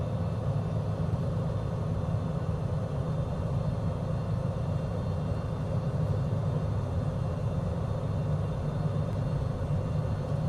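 Small airplane in flight near the Virgin Islands, flaps going down for the base turn, a steady loud engine drone and cabin rumble that holds even and continuous throughout.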